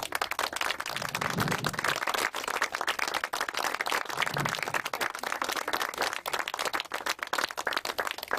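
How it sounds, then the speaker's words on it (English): Round of applause for the Mayoress at a blue plaque unveiling at Butlins, Barry Island, steady dense clapping from a gathered crowd, continuous and moderately loud throughout. "if you could have a nice round of applause for the Mayoress"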